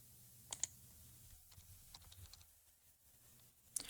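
Quiet keystrokes on a computer keyboard while entering a command in Visual Studio: a few sparse clicks and taps spread across a few seconds, faint and close, with no talking.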